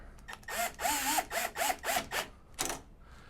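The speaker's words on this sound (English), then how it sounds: "while I'm using a power screwdriver, it is key that you have it on the lowest setting so you don't over tighten" A power screwdriver on a low setting drives screws into a keypad door knob, giving a run of five or six short, close whirring bursts with rising and falling pitch, followed by one last brief burst, with no talking.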